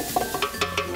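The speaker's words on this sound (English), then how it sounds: "So add our garlic in. It's minced up nice and small." Minced garlic frying in a soup pot, quick scraping stirs clattering over a light sizzle in a short rapid burst of four or five strokes, close and without speech.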